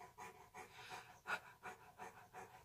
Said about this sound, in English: Do you hear the panting?